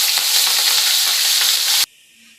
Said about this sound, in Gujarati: આપણે મરચાં કટ કરીને લીધા છે, એ પણ તળી લેશું.